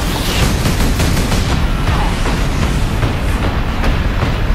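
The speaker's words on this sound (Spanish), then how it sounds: "Eso es lo que llamo explosión final." Loud, sustained explosive rumble in the video game Warhammer 40,000: Space Marine, with rolling crackling bursts layered over a heavy low roar, continuous throughout.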